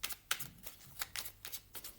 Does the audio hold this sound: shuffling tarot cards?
yes